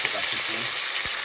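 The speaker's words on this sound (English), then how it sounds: "this is a fish, which I'm gonna be frying" Steady frying sizzle of fish in hot oil, close up, with faint low murmuring in the background.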